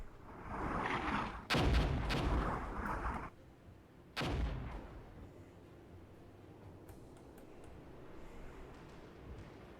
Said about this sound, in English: Mortar rounds will be landing shortly.